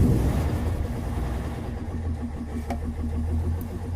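A Bedford 300 cubic inch bus engine runs steadily at idle on petrol, a low, even rumble with a regular pulsing beat that stays close and fairly loud throughout, with no talking over it.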